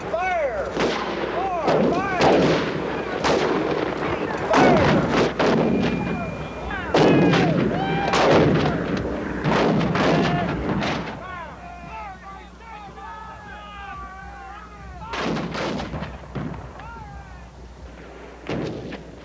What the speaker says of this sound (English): The Federals respond with an 80-gun cannonade. For 2 full hours, an artillery duel rages.